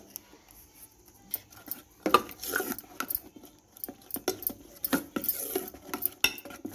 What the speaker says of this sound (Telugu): కలర్ వేసుకొని మంచిగా ఇలా కలపాలి